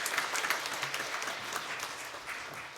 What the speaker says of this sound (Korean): 박수로 하나님께 영광 드리겠습니다.